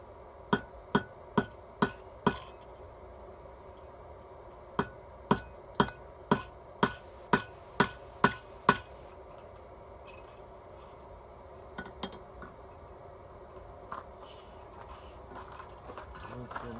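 A hammer strikes a metal rivet on pizza cutters in a quick, even series of sharp ringing blows, followed by scattered quieter taps after a pause.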